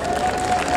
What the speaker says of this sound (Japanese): 大きな拍手をお送りください。